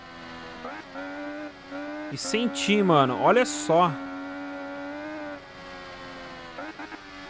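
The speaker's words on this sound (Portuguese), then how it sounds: "indico com certeza vocês a comprarem essa moto aqui no jogo" Engine of an MV Agusta Rivale 800 motorcycle racing in a PS4 video game, a steady droning whine that surges louder for a few seconds mid-clip with rising pitch sweeps, while someone talks over it.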